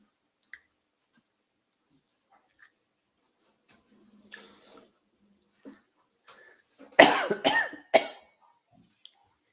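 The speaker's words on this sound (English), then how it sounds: "cough, cough." Two sharp, loud coughs in quick succession, preceded by faint throat noises and murmured sounds in an otherwise quiet room.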